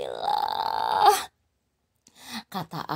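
A narrator's voice imitates heavy, breathless panting, a loud drawn-out gasping breath followed by silence and then a few short, ragged breaths, alone without other sounds.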